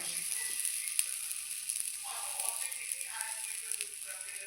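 Raw Tulsibhog rice fries in a hot wok with a quiet, even hiss and a few soft clicks and rattles, faint and close, with little else around.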